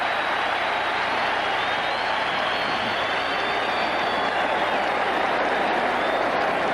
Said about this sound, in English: And the crowd gives Ronnie a hand.